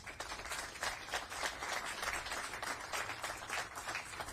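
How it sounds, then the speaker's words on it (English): Applause at a San Bernardino court commemoration of Native American Day comes across as a faint, distant, continuous patter of many hands clapping. "Give them a round of applause there."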